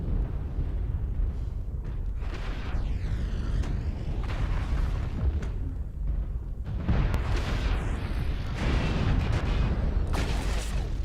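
In the mech combat game MechWarrior Online, a dense rumble of artillery explosions and heavy booms rolls on without a break, with whooshing sweeps and bursts layered over a constant low roar.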